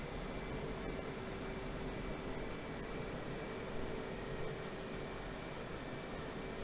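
F/A-18C Hornet jet taxiing in Digital Combat Simulator, a steady, even engine roar with a faint high whine, constant and unbroken throughout.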